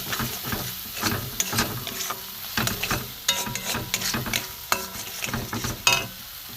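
A spice paste of chili powder, turmeric and ground cumin-coriander for cabbage paneer fries in a pan, with a continuous sizzle broken by repeated scraping stirs of a spatula at a quick, uneven rhythm.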